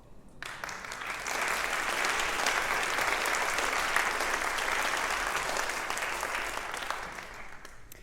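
A church congregation breaks into sustained applause, a loud, full wall of clapping that swells in quickly and holds steady for several seconds before easing slightly, with no speech over it.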